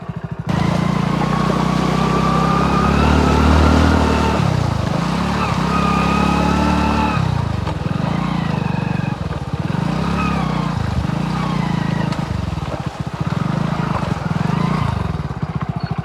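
A motorcycle engine runs close by as it rides through a waterlogged, potholed village road after rain, its note rising and falling in repeated surges while the bike works through the ruts.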